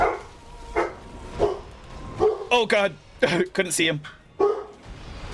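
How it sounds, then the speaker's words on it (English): A dog barks and yips excitedly in the background at the mailman's arrival, several short barks mixed under a nearby man's gaming chatter. "excuse my dog in the background"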